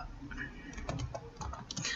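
Short bursts of computer keyboard typing as the REC command is entered in AutoCAD, a few quick soft key taps with light clicks, fairly faint.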